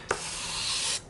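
One brief hand-sanding stroke in a single direction across an aluminium rail, a close, steady abrasive rasp lasting about a second.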